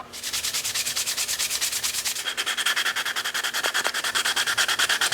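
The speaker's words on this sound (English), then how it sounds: "we're going to start sanding it with 120." Steady, rhythmic rasp of 120 grit sandpaper rubbed back and forth over a surface, close and continuous, with no talking.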